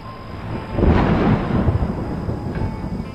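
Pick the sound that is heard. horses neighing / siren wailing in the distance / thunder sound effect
thunder sound effect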